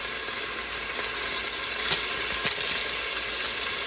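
Biryani paste and spice mix sizzle and fry in a pressure cooker, a steady bright crackling hiss with a few sharper pops, close and alone without talk.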